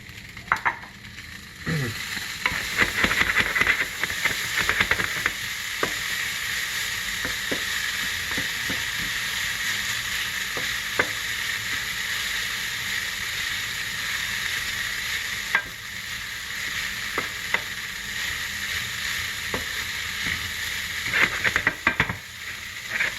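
Tofu and vegetables stir-frying in a pan for a Japanese stir-fried tofu dish, a steady close sizzle with scraping and stirring clatter throughout, no talk.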